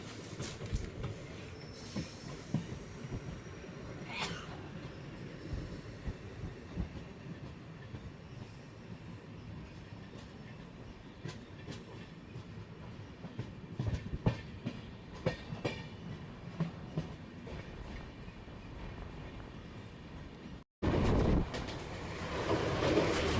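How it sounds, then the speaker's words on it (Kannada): A DEMU passenger train running from Miraj toward Belagavi passes near Chinchali, giving a long rumble of wheels with repeated clickety-clack beats and occasional squeals, then a louder burst near the end, with no voices. "ಮೀರಜಿಂದ ಬೆಳಗಾವಿಗೆ ಹೋಗೋ passenger train, DEMU train crossing ಆಗ್ತಿದೆ ಚಿಂಚಲಿ ಹತ್ರ"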